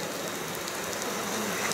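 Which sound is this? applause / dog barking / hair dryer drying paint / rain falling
rain falling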